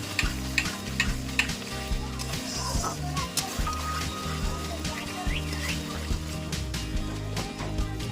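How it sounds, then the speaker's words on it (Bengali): Ginger, garlic and onion paste stir-fried in oil for a Bengali curd katla fish curry: a continuous close sizzle broken by rhythmic spatula scrapes, with faint bird calls in the background. "এটা ভালো করে যতক্ষণ না মশলা থেকে তেল ছাড়ছে ভালো করে কষাতে হবে, আদা রসুন আর পেঁয়াজ বাটার গন্ধটা চলে যায়"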